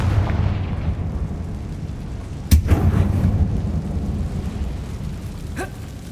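Confringo fire spell blasts in Hogwarts Legacy: a sharp loud crack midway over a continuous low rumbling backdrop, followed by a fainter impact near the end.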